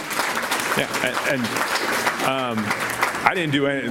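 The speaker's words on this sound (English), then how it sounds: "that's applause for them" Audience applause at a Columbus Metropolitan Club talk on affordable housing, a steady wash of clapping running underneath someone speaking over it throughout.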